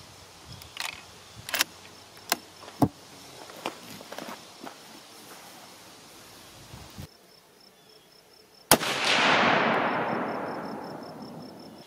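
A single loud rifle shot at 80-metre target practice rings out near the end and decays slowly, preceded by a few sharp handling clicks and insects buzzing in the background.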